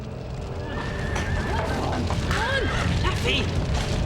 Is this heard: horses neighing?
yes